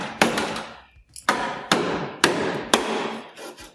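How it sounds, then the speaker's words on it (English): A hammer drives a wood chisel to break spot welds on a Land Rover bulkhead, giving five sharp, loud metallic strikes at a steady rhythm, each with a short ringing decay. "I also use a wood chisel, which can be very handy for breaking spot welds."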